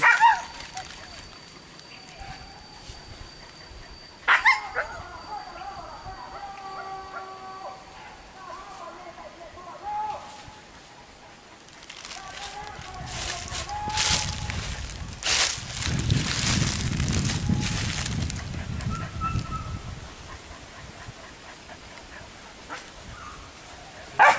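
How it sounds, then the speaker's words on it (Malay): Hunting dogs bark in short bursts at a distance during a wild boar hunt in Padang Pariaman, West Sumatra, mixed with scattered outdoor noise and later a wash of rain-like hiss. "Kuat anjing dah ni."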